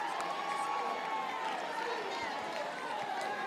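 Steady crowd roar fills a softball stadium at Rhodes House during an NCAA softball game between Alabama and LIU, loud and continuous throughout, with a voice talking over it.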